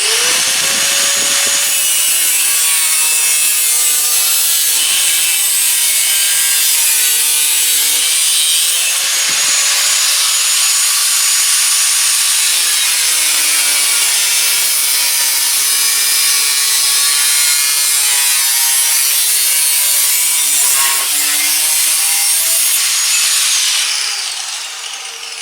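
Power tool cutting into the steel fender of a 1968 Triumph TR250 during restoration, a loud continuous high-pitched grinding whine with shifting harmonic squeal, steady for about twenty-five seconds and close, no talk.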